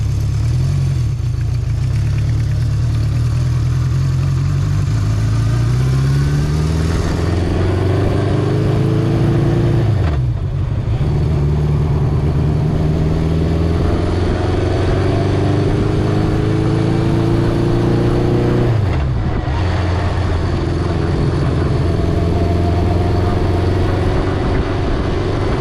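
A 1976 Honda CB750F four-cylinder motorcycle pulls away from a stop in first gear, its engine droning loud and close, climbing in pitch through repeated rising runs with brief dips between shifts or throttle changes.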